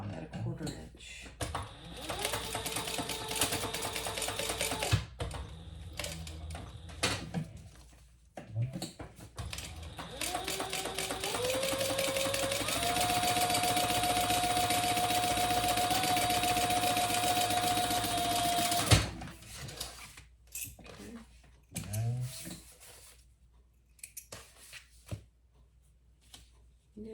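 A sewing machine with a misbehaving bobbin topstitches a quarter-inch seam across the top of a crossbody bag, giving a sustained mechanical hum after short start-stop bursts. A voice talks over parts of it.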